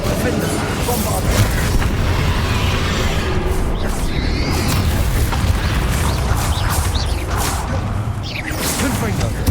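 Rapid spell blasts and explosive booms from Hogwarts Legacy combat, dense and loud throughout with whooshes and crashing impacts, while a voice shouts spell names over the action.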